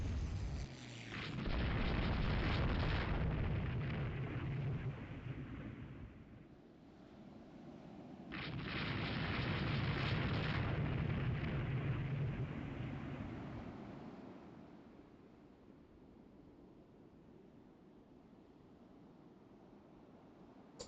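Heavy naval battle explosions from the warship strategy game Rule the Waves 3, two long rumbling booms with a sustained roar that swells, fades, returns, and then tails off into low wind-like rumble, with no talk.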